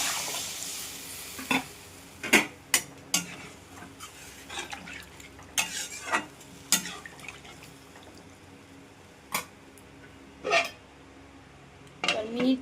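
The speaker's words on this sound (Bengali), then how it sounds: "এবার ভালো করে কষে নেব।" Fried potatoes tossed in a pan of katla fish curry, with scattered spatula scrapes and clinks against the pan over a low background, close and intermittent.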